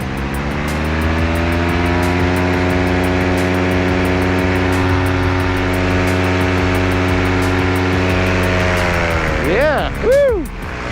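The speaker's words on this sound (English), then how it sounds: "you crack in throttle and it's like an elevator ride" A Dudek paramotor engine holds a loud, steady drone with strong harmonics as the throttle is held open during launch, then briefly swoops in pitch near the end.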